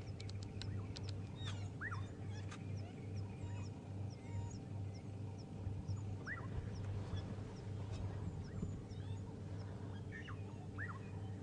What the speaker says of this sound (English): what a privilege to see wild dogs